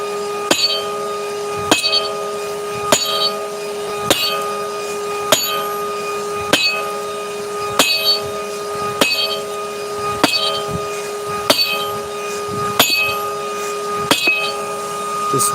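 A big hammer strikes a farrier's rasp axe set in an anvil's hardy hole during live forging, ringing metallic blows at a steady rhythm of about one every 1.3 seconds, loud and close.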